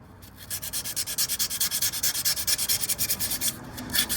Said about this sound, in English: now I'm grabbing a piece of 320 grit sandpaper